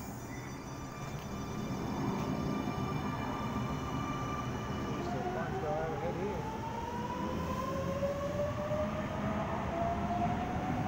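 A Sydney Millennium electric train pulls out from a platform, its steady rumble and wheel noise building, with rising motor whine tones as it accelerates away nearby; a voice speaks briefly at the start.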